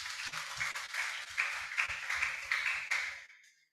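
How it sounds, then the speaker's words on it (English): Audience applause at an inventors' presentation event, a dense patter of clapping lasting a few seconds before fading out quickly, with a few scattered louder claps. "Give a big applause."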